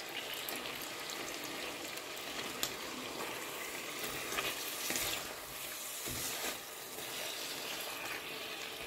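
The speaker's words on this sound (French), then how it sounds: "je vais faire revenir les morceaux sans trop les cuire" Pork kidney pieces browning in a casserole pot give off a dense, steady sizzle and crackle, loud and close, with a few sharper pops and spits scattered through it and no talking.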